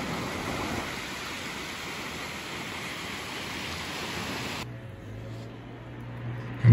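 Steady broadband rush of the Meruelo river flowing through the village of Molinaseca on the Camino de Santiago in winter, continuous for several seconds before dropping abruptly to a quieter background with a low hum.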